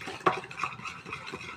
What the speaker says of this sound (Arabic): خلاص اهو، قلب قلب قلب قلب قلب كده على طول.